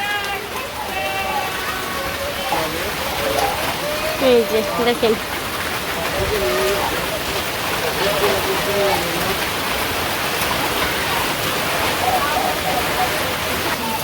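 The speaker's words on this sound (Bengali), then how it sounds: "বৃষ্টি নামছে বুঝলি" Rain pours steadily over a village, a broad continuous wash of falling water running under close conversation throughout.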